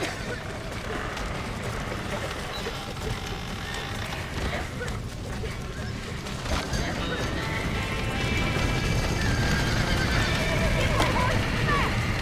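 Horses whinny and hooves clatter during a chaotic escape in the video game Red Dead Redemption, the neighing rising over a busy, loud mix of shouting voices and movement noise that swells toward the end.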